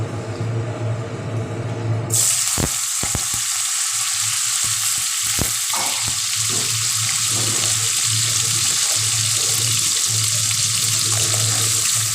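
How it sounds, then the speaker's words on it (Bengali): Teasel gourd pieces, salted and soaked, hit hot oil in a pan and set off a sudden loud, steady frying sizzle that keeps going with the occasional sharp pop and clatter of stirring. "তেলটা আমার গরম হয়ে গেছে আমি এবার এগুলোকে ভাজা করবো"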